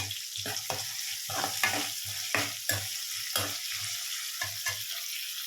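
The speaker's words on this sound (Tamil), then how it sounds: "வெங்காயம் நல்லா கண்ணாடி பதம் வர்ற வரைக்கும் நம்ம வணக்கிக்கணும்." Sliced onions for a tamarind curry with cowpeas sizzle loudly in a hot pan. They are stirred in quick scraping bursts, up close and with no talking.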